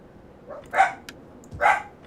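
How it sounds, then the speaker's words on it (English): Two sharp, close barks from pet dogs at home, spaced almost a second apart, each a short loud woof standing out against a quiet room. "My dogs are barking."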